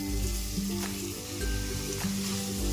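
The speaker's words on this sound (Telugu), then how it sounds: "చిరేల్ని మనం ఈ టమాటాల్లో ఈ ఉల్లిపాయల్లో వేసేసుకోవాలి వేసుకొని బాగా వేయించుకోవాలి" Prawns frying with tomatoes and onions in a pan, a steady low sizzle under a pulsing low hum, close and even throughout, no speech.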